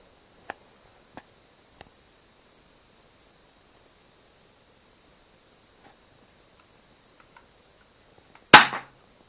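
An Ha-117 gun fired once at a target, a sharp loud shot near the end after a few faint clicks in an otherwise quiet setting.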